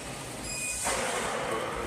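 A freight train at a solar panel material loading point gives a short burst of rail noise, a brief high wheel squeal fading into broadband rumble, heard faintly and at a distance.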